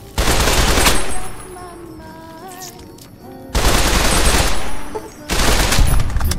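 Automatic gunfire in Fallout: New Vegas from a worn, breaking gun, two loud rapid bursts of close shots with a quieter gap between them where a voice speaks, then a shorter third burst.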